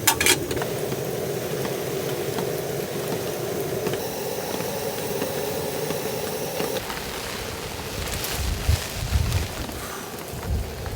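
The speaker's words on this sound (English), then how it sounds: "It's getting pretty windy." Steady wind rushes and buffets across the microphone at a campsite, with a constant whooshing roar and a gust picking up toward the end.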